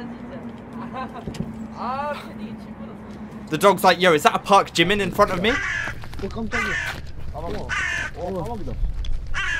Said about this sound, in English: Those crows are so loud.